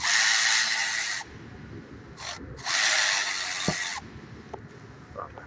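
Valve cover bolts on a 2005 GMC Yukon 1500 being backed out with a ratchet, close rapid clicking in two bursts, with quieter handling clatter and small metallic taps between them.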